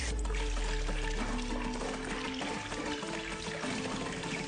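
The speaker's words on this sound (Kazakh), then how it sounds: "Су құямыз. Кәдімгі қара су." Water pours steadily into a large cauldron holding a sheep's head, a continuous loud rushing splash that fills the whole stretch without pause.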